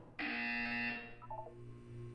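A loud electronic buzzer from the video game Portal 2 sounds once as a sustained harsh tone, then cuts off and gives way to quieter fading tonal chimes.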